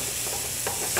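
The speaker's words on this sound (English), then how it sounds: "There's some meat browns here." Meat browning in a steel skillet gives a steady, close sizzle throughout, with brief stirring sounds near the middle and at the end.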